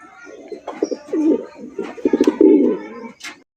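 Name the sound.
fancy pigeons cooing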